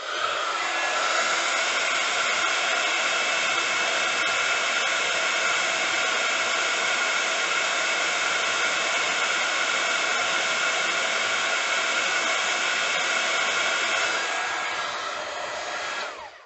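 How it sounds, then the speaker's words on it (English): A craft heat tool blows hot air over white embossing powder on a handmade mini gift bag, a steady loud whooshing roar holding evenly for about fifteen seconds before cutting off at the end. "And we're just going to heat that up with our heat tool."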